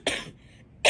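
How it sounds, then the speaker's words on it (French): Two harsh coughs from a person sick with the flu, one at the start and another near the end, separated by a brief quiet gap, close and fairly loud. "Quand je tousse, ça fait atrocement mal ici."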